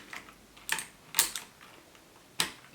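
Pictek budget mechanical keyboard with blue switches, a few scattered sharp key clicks pressed one at a time, quiet and close, with gaps between presses.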